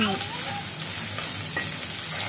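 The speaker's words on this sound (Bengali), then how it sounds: "এবার হলুদ লবণ এইগুলো দিয়ে আবার ভালো করে একটু নাড়াচাড়া করে নেব" Turmeric and salt are stirred into a hot pan of hilsa fish and malabar spinach, giving a loud, steady close sizzle of frying with faint scraping from the stirring.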